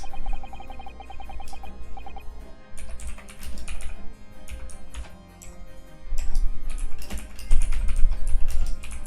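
Fast typing on a computer keyboard, dense clicking keystrokes in bursts with brief pauses, up close over a steady background, no talk.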